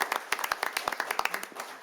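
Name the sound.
audience applause for award recipients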